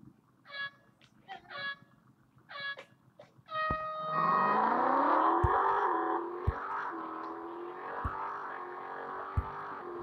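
Race cars line up for a drag race in the mobile game Real Racing 3, with short electronic countdown tones, then a loud sustained engine roar that climbs in pitch as the cars launch, punctuated by sharp gear-shift thumps.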